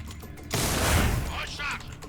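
Gunfire in the video game Resident Evil 4: a loud burst beginning about half a second in, sustained and crackling with a dense low boom, fading as the clip continues.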